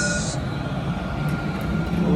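A metro train on a line heading toward Business Bay rumbles loudly and steadily, with a continuous roar of wheels and motors filling the whole stretch and no pause.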